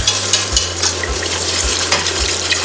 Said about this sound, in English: give it a good whisk as you're adding the milk